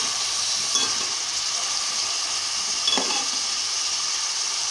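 Sliced onions fry with a steady hiss in a pan as green chilies are dropped in, bringing a couple of brief sharper sizzles and stirring scrapes over the continuous close frying, with no voice.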